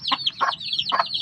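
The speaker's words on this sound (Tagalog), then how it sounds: "Ito yung mga sisiw ko boss." Chicks peep in a backyard chicken coop, six newly hatched with their mother hen nearby: high, repeated chirps run close and steady, broken by a few louder clucking bursts.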